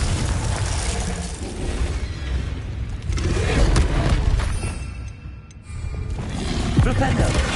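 Confringo fire-blast spell cast in the Hogwarts Legacy video game, a broad booming burst with rumbling low end that sustains over several seconds, dips briefly, then swells again amid continuous game noise.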